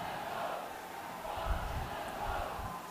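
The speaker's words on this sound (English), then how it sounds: "So you can hear a lot of people cheering." A stadium crowd of rugby fans at a school quarter-final between St. Joseph's College and Isipathana College roars and cheers in a continuous swelling wash of voices, loud and steady with surges.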